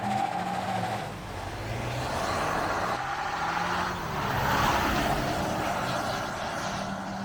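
A 2024 Ford Ranger XLT in sport mode accelerates hard from a stop to 60 mph on a hot day, a steady broadband engine and road roar swelling and easing as it pulls through the gears, heard from inside the cabin.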